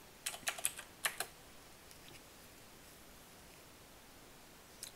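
Computer keyboard typing in a quiet room: a quick burst of about six clicky keystrokes, one last tap a few seconds later, faint background hiss, no talking.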